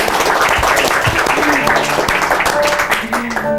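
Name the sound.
studio audience applause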